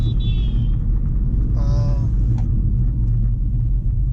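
Automatic car cruising at about 45, a steady low engine and road rumble inside the cabin, with a couple of brief horn-like tones sounding over the drone.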